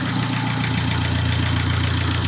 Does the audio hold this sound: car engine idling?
yes